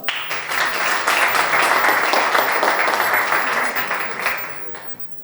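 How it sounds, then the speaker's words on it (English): An audience at a real estate investment conference session applauds to welcome the speakers, a dense, steady burst of clapping that holds for about four seconds and then tapers off near the end. "Let's give them a big round of applause."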